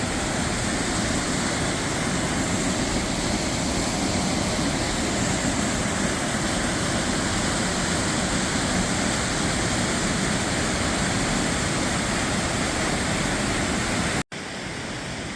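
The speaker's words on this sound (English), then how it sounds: "Water snaking through the rocks downstream." Water rushes through rocky channels of the Seven Tubs stream near Wilkes-Barre, a loud, steady, broadband roar like a small waterfall that holds constant and then drops sharply right at the end.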